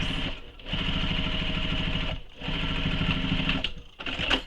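A sewing machine runs steady bursts of stitching along a tote bag seam, loud and close, pausing briefly twice between runs before the motor whirs on again.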